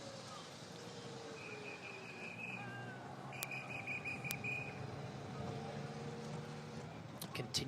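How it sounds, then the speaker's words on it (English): Marshals' whistles shrill repeatedly along the roadside at the Omloop Het Nieuwsblad 2016 cycling race, several sustained high blasts in a row with a brief sharp peep near the end, over a steady broad roar of motorbikes and crowd. "Continuous sound of marshals' whistles."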